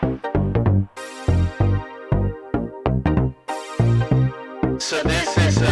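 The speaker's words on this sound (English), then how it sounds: "this is a Nord modular synth from the 90s" A Nord Modular virtual analog synthesizer from 1996 plays short, punchy analog-style notes in a bouncy pattern, with brighter sustained tones swelling in between, no voices.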